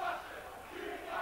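Football crowd at a 2005 Lincoln City v Macclesfield play-off match, a distant, fairly faint roar of jeering and shouting that swells and fades over a moment, with no talk.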